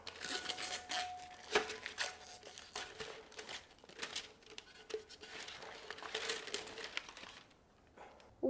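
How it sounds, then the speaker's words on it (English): Sublimation shrink wrap peeled off a tumbler after heating in a convection oven, a close series of crinkling, tearing plastic rustles in irregular bursts, fairly quiet with no talk. "we're just gonna go ahead and peel this away"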